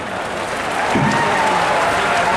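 Crowd applause at a tribal pride day gathering in Lalpur, Shahdol, a loud, dense wash of clapping with a murmur of voices running underneath.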